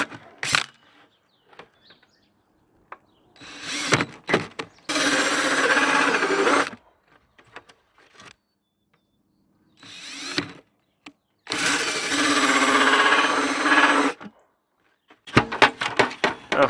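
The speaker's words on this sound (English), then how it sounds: "I'm trying to basically just get a drilled hole at the bottom and leave the top intact" Drilling a hole in the bottom of a plastic frosting bucket, heard as several whining bursts of a power drill separated by pauses, each run lasting a couple of seconds, close and fairly loud with scattered clicks and handling noise between.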